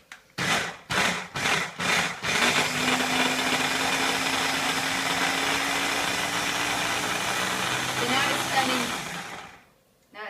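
A blender blitzes nut butter with coconut oil. It opens with several short pulsed whirs, then runs in one steady, loud, high-pitched drone for about seven seconds before cutting out.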